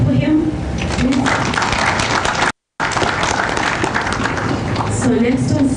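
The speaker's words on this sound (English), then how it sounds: "Clap for him, please." Conference audience applauding in a hall, a dense steady wash of clapping throughout with a short break midway, voices mixed in underneath.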